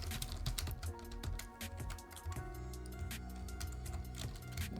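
Rapid, uneven keystrokes on a computer keyboard while entering a Windows Server 2022 login password, a dense run of close, moderately quiet clicks with no talking.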